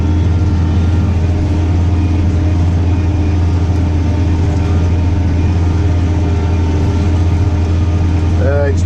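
A tractor engine fitted with a plough and stabilisers drones steadily, loud and close as it works a field.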